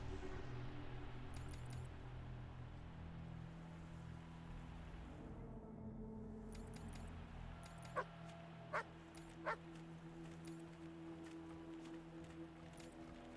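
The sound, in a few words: dogs barking at animal kennel in video game Wasteland 3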